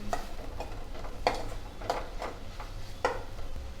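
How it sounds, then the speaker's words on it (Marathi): Garam masala sautéed into a ridge gourd curry, with a few spaced spatula scrapes and taps against the pan over a low, soft sizzle. "अर्धा चमचा काळा मसाला म्हणजे म्हणजे गरम मसाला ते टाकून थोडस मसाले परतवून घ्यायचे"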